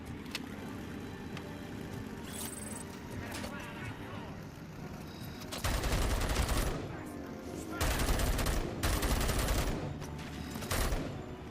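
Gunfire in RoboCop: Rogue City: scattered shots over a low hum, then several loud bursts of rapid automatic fire separated by short pauses, with a voice faintly in the background.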